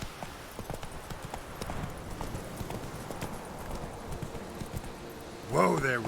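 Roach, Geralt's horse in The Witcher 3, trots with steady, close hoof clip-clops over a soft ambient bed, and a brief voice comes in near the end.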